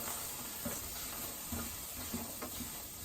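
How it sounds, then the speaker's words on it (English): Potatoes dry sautéing in a pan, a faint steady hiss and sizzle with a few soft clicks and scrapes scattered throughout, no voice present. "I'm just dry sauteing these to get them started"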